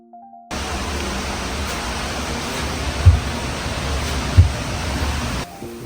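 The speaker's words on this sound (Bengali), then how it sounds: "আর এটা হচ্ছে ঝর্ণার উপরের অংশ যেখান থেকে পানি এই ঝর্ণায় গড়িয়ে পড়ছে" A waterfall in the Lake District pours in a steady, dense roar of rushing water, close and constant, with a couple of low thumps.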